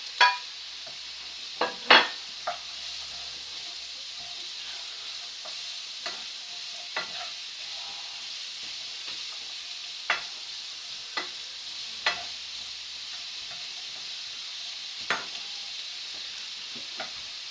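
Bell peppers sizzle in a pan while a utensil stirs them, making a steady soft frying hiss broken by about a dozen sharp scrapes and clacks at irregular intervals, the strongest near the start.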